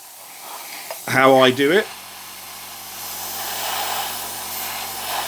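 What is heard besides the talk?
airbrush spraying paint on Thunderhawk model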